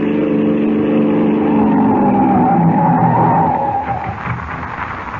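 A police car approaches at speed and skids to a stop on a road at night in a radio drama, a steady loud engine roar with tire squeal, tapering off at the end.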